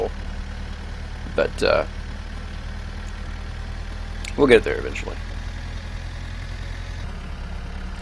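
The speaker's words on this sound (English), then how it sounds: "You kind of forget how slow the tractor is when the trailer's full" A slow tractor pulling a full trailer in the My Summer Car video game drones with a low, steady engine rumble throughout, while a voice talks briefly over it twice.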